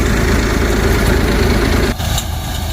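A large tractor engine idles close by during a cumin harvest, a steady low rumbling chug that runs evenly and eases slightly for a moment near the end.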